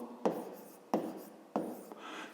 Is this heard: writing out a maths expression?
yes